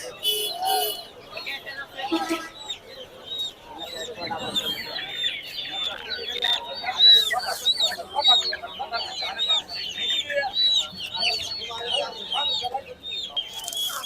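Many Egyptian Fayoumi chickens clucking and chattering together in a noisy flock, close by, with a few sharper calls rising above and some muffled voices in the background.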